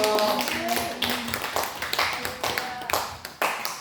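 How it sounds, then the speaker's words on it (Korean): A church congregation claps together during a Thanksgiving service, a steady burst of many hands that softens toward the end, with a voice speaking over the start. "우리 하나님께 영광의 박수 올리겠습니다."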